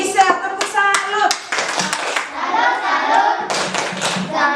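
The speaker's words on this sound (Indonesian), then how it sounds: "tepuk salut untuk siapa tadi? Misel, tepuk salut" A class of pupils claps a rhythmic salute for a classmate, several quick bursts of hand claps close by, mixed with children's voices and a teacher speaking.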